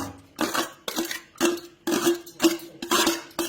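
Chopped onion mixed with green chilli for an egg omelette is tipped into a bowl in several scooping bursts, each a short rattling clatter with a faint ringing tone from the bowl between pours.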